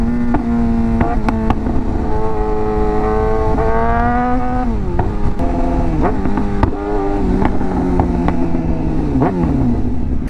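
Modified Suzuki GSX-R600 motorcycle with a loud aftermarket exhaust, idling and revving in steady blips and rising pulls, a close, harsh engine note throughout with no talking.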